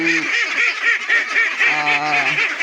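Farm ducks quack in repeated nasal calls while being fed, a close, busy flock honking over and over without pause.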